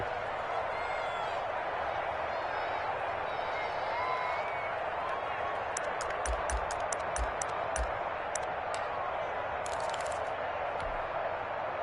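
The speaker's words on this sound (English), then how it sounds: "Here comes a big one as this crowd gets up making some noise." Crowd cheering in a football video game stadium, a sustained broad roar with scattered claps and whistles building in the latter half.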